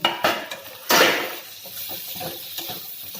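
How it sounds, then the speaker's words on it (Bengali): A metal lid is lifted off a cooking pot of pigeon meat releasing its juices, giving a sharp clank near the start, a louder scraping clatter around one second, then softer scattered clinks and light stirring sounds close by. "এখন আমি ঢাকনাটা সরিয়ে নেব।"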